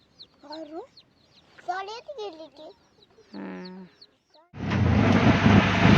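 Several clucks and squawky calls from chickens come in short bursts close by, followed by a sudden burst of loud rustling noise.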